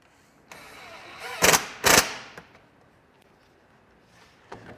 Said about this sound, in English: Draw a couple pilot holes in there.